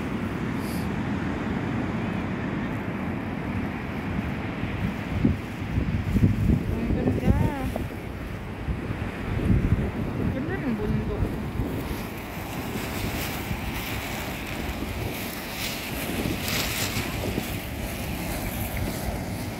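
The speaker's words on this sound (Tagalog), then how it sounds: "Wow, grabe yung waves, oh." Ocean waves at Shek-O beach in Hong Kong, a continuous rushing surf wash with heavy wind buffeting the microphone, swelling in a few louder surges, with faint voices in the background.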